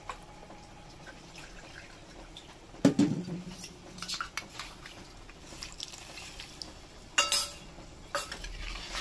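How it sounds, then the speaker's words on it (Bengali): A bowl is rinsed and its water poured into a cooking pot of mustard-paste curry, with splashes, clinks of metal and a few knocks against the pot, quiet and close, no voices. "আর এই বাটিটা ধুয়ে আমি জল দিচ্ছি।"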